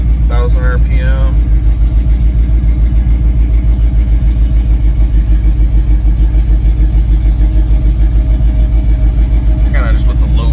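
A first-generation Camaro engine, from the 1967 to 1969 years, holds a steady, throbbing idle near 1,000 RPM, loud and close, while someone talks briefly over it.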